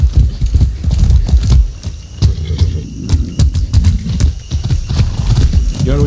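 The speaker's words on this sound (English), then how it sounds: "That's a good horse." Horse hooves clip-clop loudly in a steady, uneven rhythm, close by, with a faint jangle now and then, in the video game Far Cry 6.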